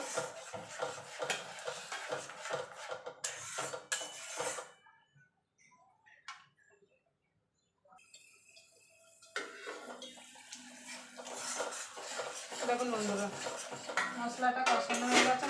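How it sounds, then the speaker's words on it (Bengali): Spice masala with ginger and garlic is stirred and fried in a pan for an egg curry: a utensil clatters and scrapes against the pan close by, then pauses into near silence before the stirring and frying resume. "যতক্ষণ মশলা থেকে তেল না ছেড়ে আসছে ততক্ষণ এটাকে কষিয়ে নেব"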